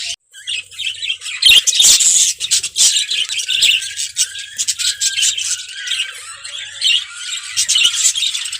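Budgerigars chirp and squawk in a busy, close chorus of rapid high twittering calls with sharp bursts, loud and continuous with no talk.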